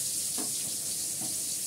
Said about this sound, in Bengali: পটলটা ভেজে নিচ্ছি